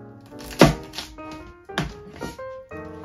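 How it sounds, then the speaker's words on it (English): Chicory cut with a knife on a board: a few separate dull thunks and taps, close and moderately loud, spaced irregularly with pauses between strokes. "I think I might cut it one more time so that it would cook easier"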